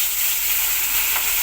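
Salted, turmeric-coated fish heads frying in hot oil, a loud, continuous close-up sizzle with a steady hiss and no voices.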